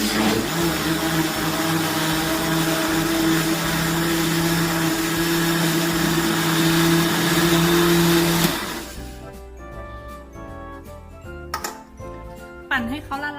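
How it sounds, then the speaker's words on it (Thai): A kitchen blender whirs loudly and steadily as it blends Thai tea powder, running for about eight seconds before switching off, followed by faint clinks and handling sounds. "แล้วเราก็ปั่นนะคะ"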